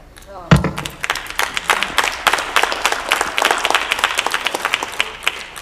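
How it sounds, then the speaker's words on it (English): A church congregation breaks into clapping after a thud, with distinct individual claps building into an uneven, lively rhythm close by, and faint voices mixed in. "they just clapped for God's word"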